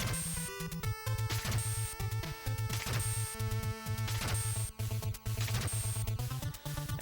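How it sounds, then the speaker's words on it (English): Chiptune-style game music from Conquest of the Crystal Palace plays loud and continuous, with repeated bass notes and bright tones. The distinct backslash success effect blends into the mix. "if you want to know if you get the backslash successfully, you will hear a distinct sound that sounds like this"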